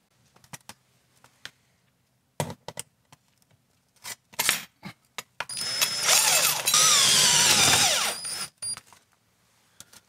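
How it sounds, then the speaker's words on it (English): Several short mechanical clicks, then a loud, sustained whining drill driving self-drilling screws through sheet metal on a kiln for a few seconds, ending with a few more clicks. "with the drill, I'm screwing through using the drill bit that's inside the screw itself"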